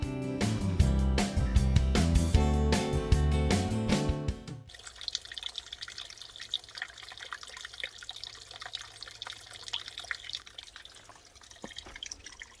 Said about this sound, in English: I just had to record the sound of that water back there.